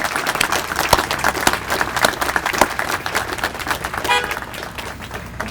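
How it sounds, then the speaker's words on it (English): Outdoors at a restaurant ribbon cutting, an audience gives lively, steady applause, and a car horn honks briefly in the middle of the clapping. "Can you please give these special people a round of applause?"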